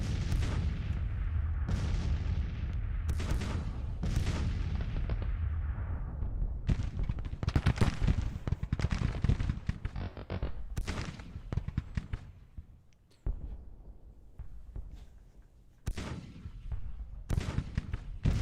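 Musket volleys and artillery fire echo through a Civil War battle in the video game Grand Tactician: The Civil War. Many sharp cracks and booming shots fire in irregular clusters, some layered into crackling volleys, at a moderate distance.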